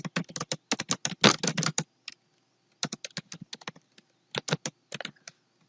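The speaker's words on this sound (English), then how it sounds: "type in your question" Close keystrokes on a computer keyboard come in quick bursts of typing separated by short pauses, crisp and clicky with no voices.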